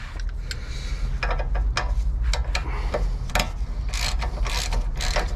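A ratchet tightens a bolt on a Nissan 350Z ball joint, giving a rapid, rhythmic series of sharp metallic clicks in close bursts, loud and up close with a low background hum.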